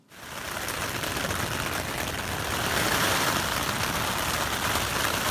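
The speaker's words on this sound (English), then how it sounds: "we have a very nice rain that has just come into our campsite" Steady, even hiss of rain falling all around a tent campsite at Cheaha State Park, Alabama, continuous and unbroken, with no voices.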